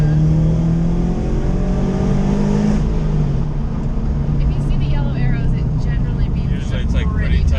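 A Subaru BRZ sports car is driven hard on a winding canyon road. The engine drones loudly throughout, with rising and falling revs, and people talk inside the cabin over it.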